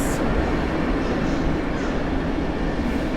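A Baltic Express passenger train rolls through Warszawa Centralna station, a loud, continuous broadband rumble of wheels and carriages filling the whole stretch.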